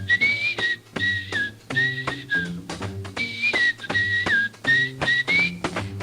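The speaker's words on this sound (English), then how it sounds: "How about whistling along with him?" A clear, close whistled melody in short sliding phrases with brief pauses, backed by soft instrumental accompaniment from an old-time radio broadcast.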